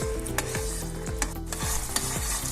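Tomato puree frying with meat in a pan for an okra and meat dish, with a steady loud sizzle and repeated scraping stirs at an even pace, close up, with no talking.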